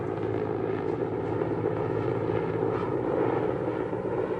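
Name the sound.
helicopters flying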